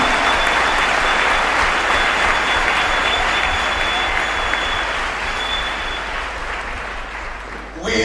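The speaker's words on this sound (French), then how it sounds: "Clap for the Lord Jesus." Applause from a large church audience at a celebration event, a dense steady wash of many hands clapping that fills the space for several seconds and thins slightly toward the end.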